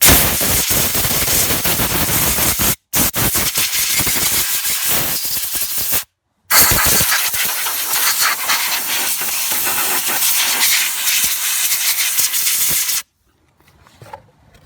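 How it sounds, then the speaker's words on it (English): Strong compressed air blasting rust off front disc brake parts of a Toyota Corolla, loud harsh hissing bursts, close, in long sustained blasts with two brief pauses before it cuts off into quiet. "It's a strong compressed air"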